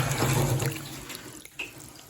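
Water splashes and pours out of the fuel tank of a wrecked Holden Torana being repaired. A close, gurgling flow tapers off into a few softer splashes and drips.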